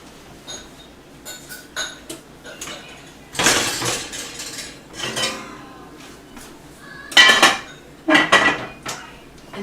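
A Dutch oven lid clanks down over gluten-free sourdough bread, with several loud metallic clatters and clinks of the heavy pot in bursts, close and alone.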